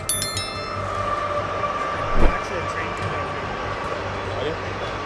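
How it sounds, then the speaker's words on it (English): A train rushing along railway tracks at high speed, a continuous close rumble with a sharp clanking peak midway and faint metallic ringing at the start. "a train is approaching at high speed"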